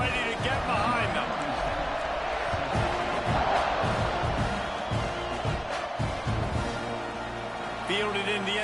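A stadium crowd roars before an onside kick in a college football video game, a dense, sustained wall of cheering and chanting with band-like tones that stays loud throughout.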